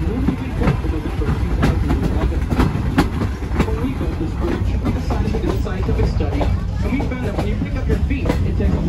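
A train rumbles steadily along the tracks near the Buffalo River with a constant clickety-clack of wheels over rail joints, loud and close, with faint voices underneath.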